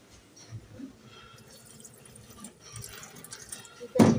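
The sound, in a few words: washing rice under running tap water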